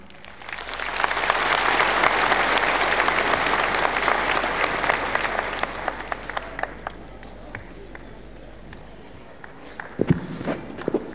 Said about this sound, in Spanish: a quien lo recibimos con este fuerte aplauso